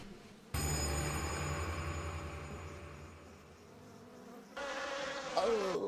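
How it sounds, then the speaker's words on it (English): Large flies buzz loudly in an amusement park gondola in the horror game Spirit Hunter: Death Mark, a steady droning hum with bright tonal harmonics that swells in, holds, then shifts and intensifies toward the end. "the large flies suddenly buzzing around us"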